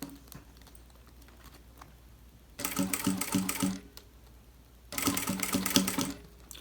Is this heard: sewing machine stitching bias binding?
yes